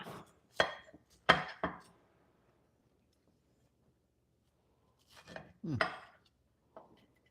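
Cornbread on a board being cut with a big knife, a few sharp taps and thuds in two short clusters separated by a long silence, close but fairly quiet.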